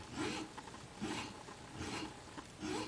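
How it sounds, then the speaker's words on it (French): A metal file rasps across a model railway rail to bevel its end, giving steady rhythmic back-and-forth strokes about once every second, close and fairly quiet, with no talking. "je vais venir limer ici pour biseauter la rail"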